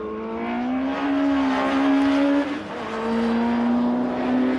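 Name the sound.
Campagna T-Rex driving on the Dreux circuit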